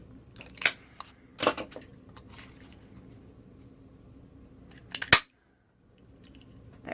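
Scissors snip through silver cardstock to cut out a circle, giving a few sharp, close crunching clicks in separate bursts with quiet pauses between them.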